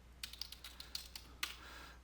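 Commands are typed on a computer keyboard in quick, irregular clicks and clacks, with one sharper keystroke near the end, close up and with no voices.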